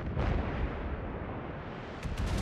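Heavy naval gunfire in World of Warships, a dense rumbling barrage of booming shots rolling continuously through the clip, with a sharper burst of blasts near the end.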